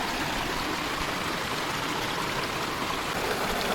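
Creek water runs steadily through a gold prospecting sluice set in a quartz-strewn creek bed, making a constant, close, rushing trickle and splash that holds at an even level throughout, with no talking.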